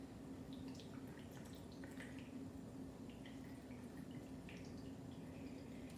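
Squeezed tofu wrapped in cheesecloth releases a faint, steady trickle of water with scattered small drips over a constant low hum, with no talking.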